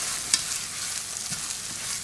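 Beaten eggs are stirred quickly into fried rice in a hot pan for Cantonese-style rice, giving a continuous bright sizzle with soft scraping strokes and a brief clink near the start.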